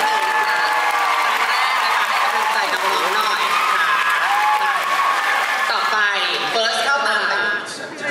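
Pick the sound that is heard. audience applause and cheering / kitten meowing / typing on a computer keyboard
audience applause and cheering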